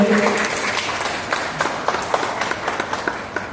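Audience applause welcoming performers at an arts festival, a dense burst of clapping from a crowd that starts strong and thins into scattered claps over a few seconds.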